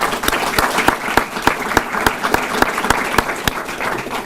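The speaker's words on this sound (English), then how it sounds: "So if we can give them a round of applause." A room of attendees at a high school student government day gives the food preparation staff a round of applause, loud dense clapping with some sharp individual claps standing out throughout.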